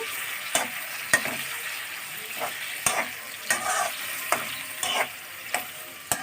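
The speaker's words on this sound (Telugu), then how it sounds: "ఇలా వేస్తూ కొంచెం కలుపుకుంటూ వేయించుకోవాలి." Ingredients are stirred and fried in a pan. A steady sizzle runs throughout, with about a dozen sharp scrapes and knocks of the spoon against the pan spaced irregularly over it.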